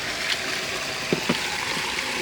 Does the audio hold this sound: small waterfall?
yes